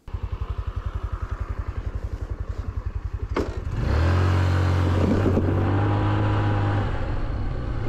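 A 150cc GY6 Chinese scooter putters at a rhythmic idle, then revs up and pulls away into a sustained, loud droning engine note with some clattering, heard close by.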